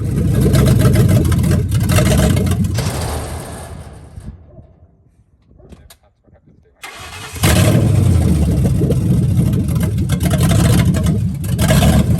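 A 2004 Ford Mustang GT V8 driving off: a loud, close engine roar that fades away, drops to near silence for a moment, then returns at full loudness and holds steady.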